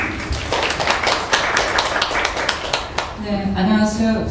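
Audience applause at a Korean women's policy forum, a few seconds of sustained clapping from a seated crowd in a hall, fading as a hum and a voice take over at the end.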